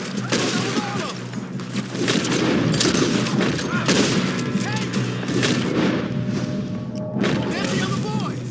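Gunfire in the Western video game Red Dead Redemption 2 during a train heist: dense, continuous volleys of shots and booms layered over game voices, loud and sustained through the whole stretch with no clear gaps.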